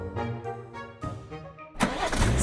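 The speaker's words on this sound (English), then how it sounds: "Soon the motor car started" A cartoon motor car starts up: a tonal, harmonic engine crank with a couple of rising bursts, then a loud, broadband roar as it catches and pulls away, up close and with no talking.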